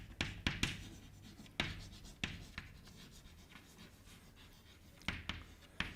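Chalk or marker taps and strokes on a board during a classical mechanics lecture, about a dozen short, crisp hits in quick uneven groups, close and soft, with no talking.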